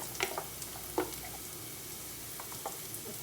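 Cumin and salt stirred in a hot pan give a faint, steady sizzle with a few soft scraping clicks from the stirring.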